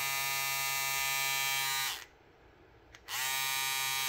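Braun One Tool electric shaver with its centre blade moving gives a loud, bright mechanical buzz that cuts out for about a second and then starts again, heard close up and alone.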